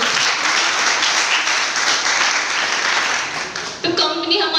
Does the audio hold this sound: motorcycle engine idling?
no